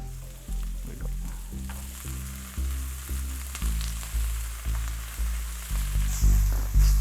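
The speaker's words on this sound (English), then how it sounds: "So I start stir fry all the meat and the shrimp and the pork and the tofu." Meat, shrimp, pork and tofu sizzle loudly in a hot pan for a stir fry, a steady frying hiss under repeated rhythmic thumps and scrapes of stirring, with no talk.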